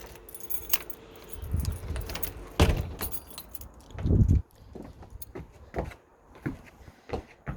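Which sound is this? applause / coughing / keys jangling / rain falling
keys jangling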